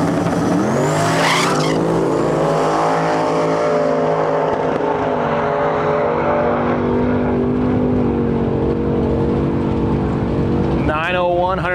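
A Camaro race car at about 150 mph brakes on the track, its loud engine note holding steady and then dropping in pitch, with a brief squeal-like whine near the end.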